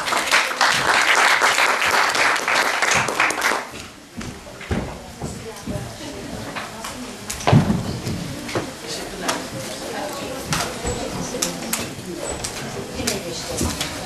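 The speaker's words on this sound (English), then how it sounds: "we are giving an applause for our speakers" An audience applauds panel speakers at a conference, a burst of clapping that fades after a few seconds into scattered claps, shuffling and room noise, with some talk underneath.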